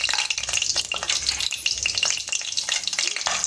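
Whole spices, fennel seeds among them, frying in ghee and oil for vegetable biryani, a steady close crackling sizzle with bright popping and spattering that continues without pause, no talking.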